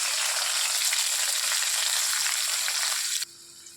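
Thinly sliced onions added to hot oil with cloves and bay leaves for potato curry sizzle loudly and steadily, then the frying noise drops suddenly near the end, no talk.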